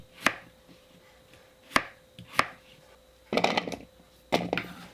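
Potatoes are cut into large cubes on a cutting board, giving sharp knife chops: three single thuds spaced apart, then two short bursts of rapid chopping, close and clear against a quiet room.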